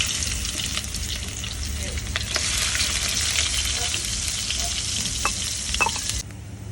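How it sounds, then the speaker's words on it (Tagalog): Onion and garlic sautéing in a pan, a steady loud sizzle with occasional stirring clicks running throughout, no voices. "saute the onion and garlic."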